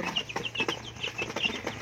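Several chickens clucking steadily indoors in a coop, overlapping soft clucks and short calls over a constant low mechanical hum.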